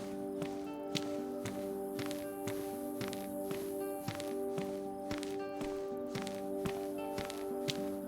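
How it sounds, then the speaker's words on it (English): Steady footsteps of a character walking in the role-play game KinshipRP, an even rhythmic patter of soft steps over a constant droning music bed, with no talking. "all you hear is the footsteps"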